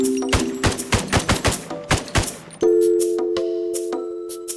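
Assault rifle fire from the video game Arena Breakout: a rapid run of about ten loud, sharp shots, then a sustained metallic ringing tone that slowly fades.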